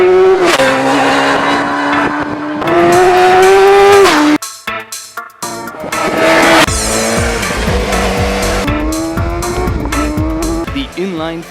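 A BMW S1000R roadster with its 999cc inline-four engine ridden on the road, loud revving that rises and falls through gear changes, close and powerful, with a brief drop-out partway through.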